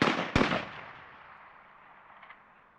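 A single sharp gunshot rings out close by, cracking loudly and then decaying in a long reverberant tail, with no speech over it.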